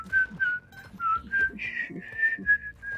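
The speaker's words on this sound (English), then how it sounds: "I have to whistle now because I'm dead." A person whistles a tune as a string of short, clear, melodic notes with brief pauses between them, close and fairly quiet, with no talking.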